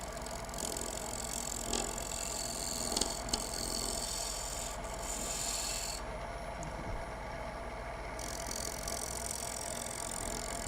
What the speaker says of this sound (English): you kind of heard it kind of going chatter, chatter, chatter, chatter